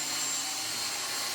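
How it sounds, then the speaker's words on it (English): Dyson V6 cordless vacuum cleaner running steadily with a close, loud, airy whine and no talk over it. "We can hopefully put the wand on and vacuum up the mess."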